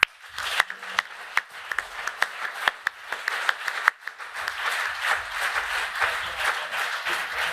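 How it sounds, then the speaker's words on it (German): Applause at a runners-of-the-year award event, starting with scattered sharp individual claps that build into fuller, steady clapping from the audience, moderately loud. "das ist ein besonderer Applaus für Sabine auch wert."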